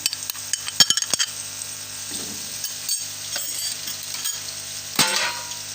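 Ginger garlic paste sizzles softly in a pot with dark brown fried onions for chicken biryani, a spoon stirring and scraping, a few sharp clinks of metal utensils against the pan, no talking.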